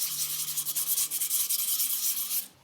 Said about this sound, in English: You always sand in a circle.